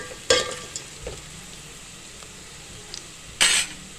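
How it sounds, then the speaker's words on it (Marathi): Whole spices, cinnamon, peppercorns and cloves, frying in hot oil with a low steady sizzle, punctuated by a couple of sharp stirring scrapes in the pan. "तेलामध्ये चांगलं आपल्याला असं परतून घ्यायचे गरम मसाले"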